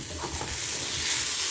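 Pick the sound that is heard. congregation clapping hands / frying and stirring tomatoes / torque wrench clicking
frying and stirring tomatoes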